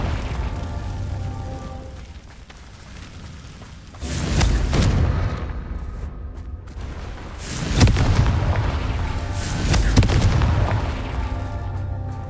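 Confringo fire spell explosions in Hogwarts Legacy, several heavy booming blasts with long rumbling tails and swells, loud and close, with no voices.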